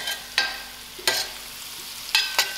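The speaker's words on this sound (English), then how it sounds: "Give this a good mix." Green pawpaw curry mixture stirred in a pan, heard as a few separate sharp scrapes and clinks of a spoon against the pan over a quiet, faint sizzle, close by.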